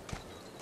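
In the video game Assassin's Creed Syndicate, two hollow horse hoof clops land about half a second apart, close and distinct, over a steady faint background hiss.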